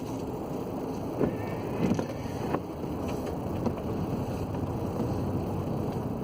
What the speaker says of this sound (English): I'm going to get some air going, so I'm sorry about the fan noise